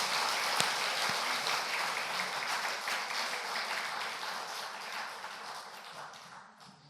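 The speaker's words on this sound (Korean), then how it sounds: "아이고, 박수 좀 쳐줘요." Congregation applause at a revival service's early-morning gathering, a steady, dense wash of clapping from a roomful of people that holds evenly and then tapers off near the end, with no talking.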